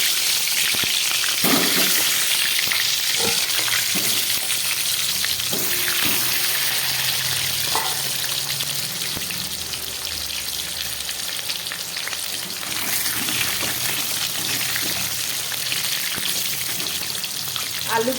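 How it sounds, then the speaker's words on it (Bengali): Cut potatoes fry in hot oil in a pan while mutton is being cooked, giving a steady, close hiss and crackle that carries on unbroken with no talk. "এবার এর মধ্যে আমি কেটে রাখা আলুগুলোকে ভেজে নিচ্ছি।"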